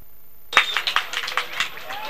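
At a wrestling semi-final, a crowd breaks into applause after a moment of quiet, with a burst of brisk, close clapping that keeps up in uneven pulses.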